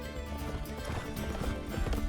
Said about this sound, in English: Angus is Merida's horse.